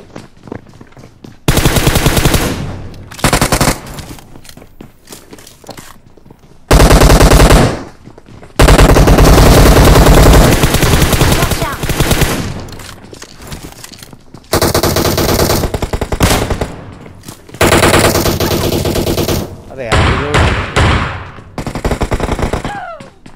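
Loud automatic rifle fire from the video game PUBG rips out in long sustained bursts separated by brief pauses, close and dominating the scene, with occasional quieter gaps between volleys.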